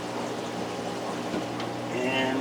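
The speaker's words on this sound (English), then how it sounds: "Put my hose into the sump. Plug in the pump." An aquarium water pump runs steadily while a hose fills the sump of a saltwater tank, giving a continuous close gurgling, bubbling flow with a faint voice underneath.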